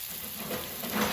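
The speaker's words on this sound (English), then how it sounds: "There we go, sizzling away." Garlic sizzles in a pan over medium-high heat, a dense, even crackling hiss that stays steady and close throughout a short moment.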